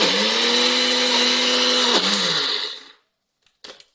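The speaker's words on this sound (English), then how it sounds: "I'm going to blend the mixture of rice, lentils, green pepper, spring onions, garlic and oatmeal in the blender" A kitchen blender whirs loud and steady, blending a thick mixture of rice, lentils, green pepper, spring onions, garlic and oatmeal, then winds down and stops, followed by a couple of brief clicks.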